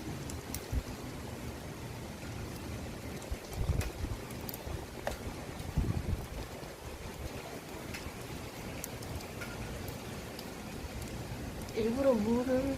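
Monsoon-season rain falls with gusting wind at a seaside spot, a steady patter and whoosh throughout, with a few louder bursts and faint indistinct voices underneath.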